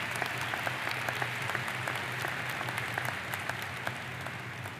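Generous audience applause thanking the faculty at a university doctoral hooding and master's recognition ceremony, a sustained, even patter of many hands in a large hall, moderately distant and continuous.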